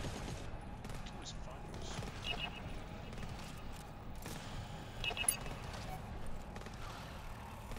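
Gunfire crackles from behind in GTFO, a modded co-op shooter, with repeated shots and bursts at moderate distance mixed under players talking.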